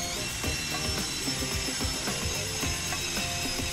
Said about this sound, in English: I put another piece over the top of that to hold it all down so I can get these clamps in at the sides